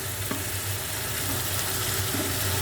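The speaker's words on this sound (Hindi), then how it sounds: "ये टमाटर गलने तक ये मसाला भुनेगा" Masala with tomatoes frying in a pan, a steady close sizzle and crackle with faint stirring, continuous and even with no talk.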